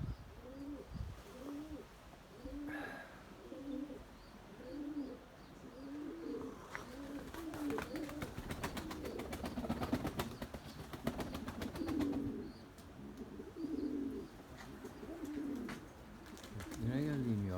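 Pigeons coo repeatedly in soft, rhythmic phrases, with a burst of wing flapping partway through and some faint background voices.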